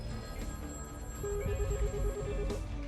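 Telephone on a public toll-free tip line rings in a pulsing electronic pattern, sounding over a low musical background.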